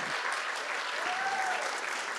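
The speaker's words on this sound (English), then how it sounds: "please stand up and give a wild round of applause for mothers everywhere" A women's event audience stands and gives a steady round of applause for mothers, an even wash of clapping from many hands throughout, with a faint voice under it.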